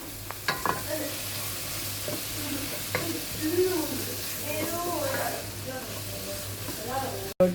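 Tomato masala for a squid roast sizzles and frys in a pan while a spoon stirs it, with steady hissing and occasional scraping clinks near the mic, and some faint voice in the background.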